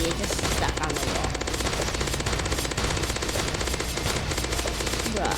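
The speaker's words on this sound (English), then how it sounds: "I'm shredding it with my machine gun." A machine gun fires in a zombie video game, a dense continuous rattle of rapid shots that stays loud throughout.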